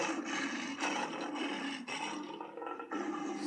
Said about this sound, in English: So this is the sound of a lion.